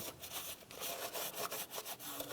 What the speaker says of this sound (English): Just use a rag and some brake parts cleaner and just clean it up.